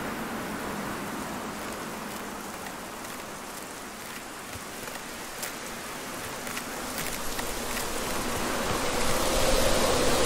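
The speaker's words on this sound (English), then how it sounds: "Oh man, the rain." Rain in the video game Generation Zero: a steady, dense hiss of rainfall that fills the whole stretch and swells slightly louder toward the end, with no voices over it.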